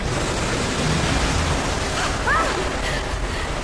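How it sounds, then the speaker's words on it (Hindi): Rising water in Rise of the Tomb Raider gives a continuous broad rushing wash, like surf or a waterfall, steady and fairly loud, with a brief tonal chirp partway through. "इससे पानी का लेवल पूरा बढ़ जाएगा"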